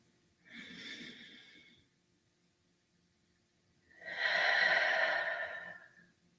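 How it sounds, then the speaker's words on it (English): Two slow, deep breaths close to the mic, a shorter inhale followed after a pause by a long, fuller exhale, with no talking. "One more deep breath."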